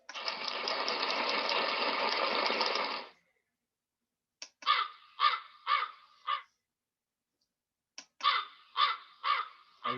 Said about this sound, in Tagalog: Halimbawa, yung uwak.